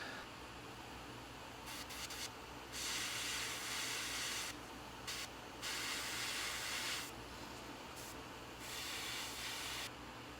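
An airbrush sprays MRP black surface primer onto 1/48 scale model aircraft parts, a soft steady hiss that rises in several separate bursts of a few seconds each over a quieter compressor-like background, with no talk.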